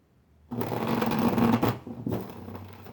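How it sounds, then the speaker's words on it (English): Tarot cards are shuffled by hand in a dense, rapid riffling burst that starts abruptly, pauses briefly, then continues as a softer flurry, with no talking. "I'm just going to start shuffling."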